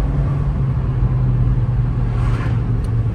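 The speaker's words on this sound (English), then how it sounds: "Hear that VTEC sing, bruv." A Honda Jazz with a VTEC engine drones steadily from inside the cabin, a continuous low engine hum and road rumble with no clear rise in revs.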